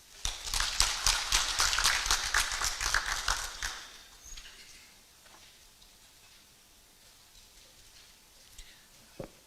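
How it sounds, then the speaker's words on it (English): Audience clapping at a Universal Health Coverage collaborative meeting, a dense burst of many hands for about four seconds that then fades into a quiet room with faint stray sounds. "I'm persuaded Waziri deserves a bigger round of applause."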